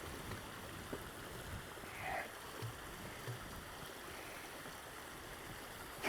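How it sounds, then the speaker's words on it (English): Water from nearby waterfalls runs in a steady, even rush along a hillside walking route after recent rain, fairly quiet and continuous throughout, with a couple of faint brief knocks and a soft mid-range swish near the middle and no voices. "It's real waterfalls around here today"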